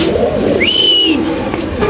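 Pigeons at a pigeon farm, a single close, clear rising call over a low murmur of other birds in the background.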